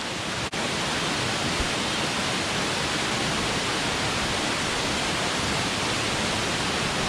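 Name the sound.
Vrede Waterfall rushing water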